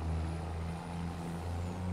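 An old Volvo truck in a farming video game rumbles steadily along at a low, even drone, a constant engine hum with no other sounds over it.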